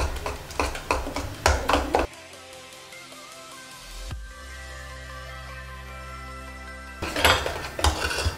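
A spoon stirs cake batter in a bowl for a homemade birthday cake, quick rhythmic clinks and scrapes in close bursts at the start and end, with a quieter steady hum between.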